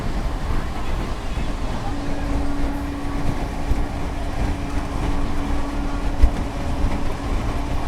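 The Nagpur–Amritsar AC Superfast Express, train 22125, runs past at an Indian station with a continuous heavy rolling roar and a sustained tonal hum partway through, staying close and loud the whole time.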